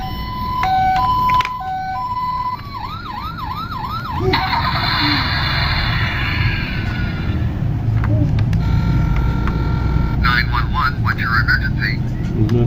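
A battery-powered toy 911 ambulance plays an electronic siren, with wailing up-and-down tones and beeping melody snippets. Someone talks over it throughout, and the siren stays close and fairly loud.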